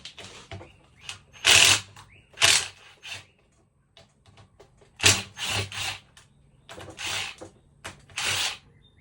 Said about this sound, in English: I'll put it on my drill and then I'll get that chain guide off